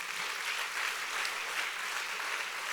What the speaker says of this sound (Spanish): Dele un buen aplauso al Rey de Gloria